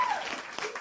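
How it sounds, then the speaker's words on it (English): Short burst of applause on a radio show, a steady wash of clapping lasting under a second with a faint whistle-like tone riding over it. "I got some applause"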